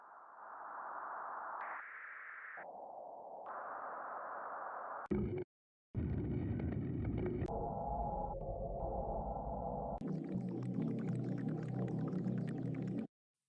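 Xfer Serum noise oscillator playing a run of Atmos-category noise samples from the synth's noise section, shifting through several airy, hissing and tonal textures with abrupt switches between them and a brief silent gap near the middle.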